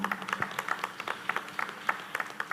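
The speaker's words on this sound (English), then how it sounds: "a big applause for the BK team" Sparse, fairly quiet clapping from a small audience at the final of a Vietnam Swiss innovation competition, with separate claps scattered irregularly rather than building into full applause.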